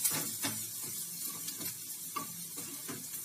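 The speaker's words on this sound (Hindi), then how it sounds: "अब मैं सेक कर देती हूँ मीडियम, क्योंकि मुझे प्याज को लाइट ब्राउन करना है" Onions frying on medium heat in a pan for crispy masala taro root, a steady close sizzle with repeated scraping strokes as they are stirred at a regular pace.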